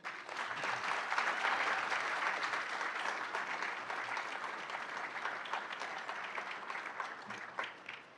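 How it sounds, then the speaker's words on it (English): An awards ceremony audience gives sustained applause, a dense, even wash of many hands clapping that tapers slightly near the end. "Let's give them a round of applause."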